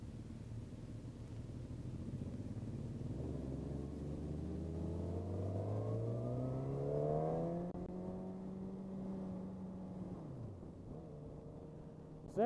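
A Suzuki GSX-R 1000 motorcycle engine revs up through rising pitch sweeps, climbing steadily, then shifting and easing off, a loud close whine and rumble with no talking.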